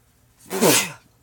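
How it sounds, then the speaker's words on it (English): A single sneeze, close and fairly loud, with a sharp burst in the middle and a quick fade; nobody talks. "Ooh, I'm going to sneeze."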